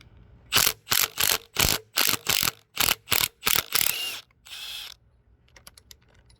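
Ratchet wrench loosening engine head bolts on a 1989 Chevrolet S10 in a garage: about ten crisp, loud clicking bursts in a quick even rhythm, followed by a longer rasping turn and faint clicks trailing off.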